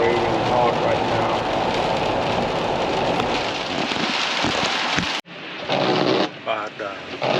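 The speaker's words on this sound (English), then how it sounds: "so it's raining hard right now" Heavy rain pours steadily in a dense, loud hiss of drops on surfaces. It cuts off abruptly partway through, then resumes with a voice speaking over it.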